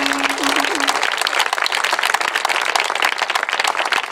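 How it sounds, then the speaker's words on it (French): Protesters at an environmental rally in Capbreton against RTE construction works applaud allied groups, a dense, sustained crowd clapping with some voices and a brief tonal whistle early on. "On peut les applaudir."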